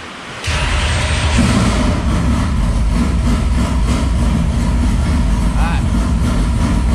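A race car engine cranks and fires, then settles into a loud, steady, low rumbling idle close by that keeps running without a break.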